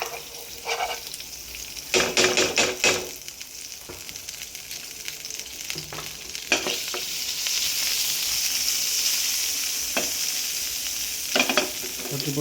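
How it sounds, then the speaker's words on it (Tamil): Butter sizzles and crackles in a frying pan, a continuous bright frying hiss with occasional louder pops and stirring scrapes, close and alone. "இப்போ ஒரு பேனில் பட்டர் போடுறோம்"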